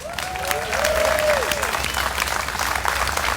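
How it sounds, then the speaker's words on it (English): An audience at a No Kings protest gathering breaks into steady applause that swells and holds, with a cheering voice rising briefly near the start over the clapping. "A round of applause for him"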